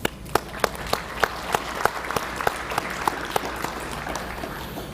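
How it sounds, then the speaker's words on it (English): Audience applause at a high school National Honor Society induction ceremony, a steady wash of many hands clapping with a few sharper, louder claps standing out at a regular pace, filling the room without any speech. "give them a round of applause for being your parents and doing a fine job of raising you"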